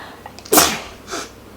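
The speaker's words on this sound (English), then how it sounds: "am I seriously gonna sneeze again?" One sharp, loud human sneeze bursts out near the mic, followed by a fainter breathy exhale.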